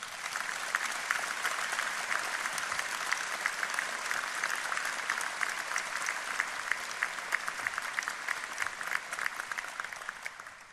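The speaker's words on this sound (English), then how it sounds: "I think that deserves a round of applause." Sustained applause from a graduation ceremony audience honouring Mrs. Fothergill, the county's first Lady Lord Lieutenant, a dense, even wash of many hands clapping, moderately distant and unbroken.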